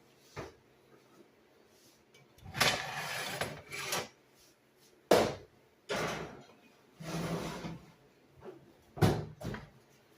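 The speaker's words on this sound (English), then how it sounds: "So I'm going to put this in the oven." A turkey breast goes into a kitchen oven: several distinct bursts of sliding, scraping and clunking as the oven door and rack move, with quiet pauses between them.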